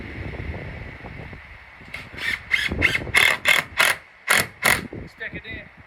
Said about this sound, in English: Now I'm screwing this today, but most times what I do is I staple it.